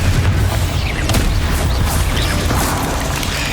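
Confringo blasting spell from the Hogwarts Legacy video game going off, a dense, loud rumbling blast with booming low end and crackling bursts that sustains throughout, no speech.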